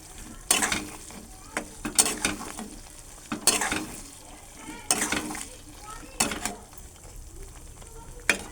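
Pieces of chicken stirred and sautéed in a pan in their own released juices with no added water, a steady soft sizzle broken by repeated louder scraping stirs against the pan, close and without talk.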